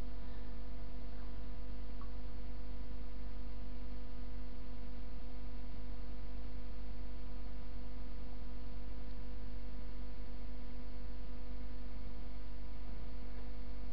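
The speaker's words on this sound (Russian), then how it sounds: "Этот холодильник включился." A refrigerator switched on hums with a steady low mains drone and faint background noise, constant and unchanging throughout, with no talk.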